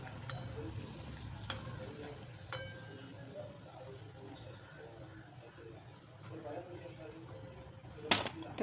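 Sabudana vada deep frying in oil, a quiet, continuous bubbling hiss with a low rumble beneath, occasional faint clicks and a sharp utensil tap near the end.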